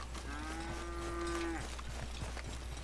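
Cattle in the video game Red Dead Redemption give one long, clear moo lasting over a second, heard alone over a quiet low background hum.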